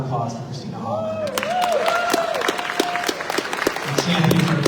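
A crowd at a Family Empowerment Day event applauds for Christina Hoffman with dense, sustained clapping, rising whoops and cheering voices mixed in, loud and close throughout.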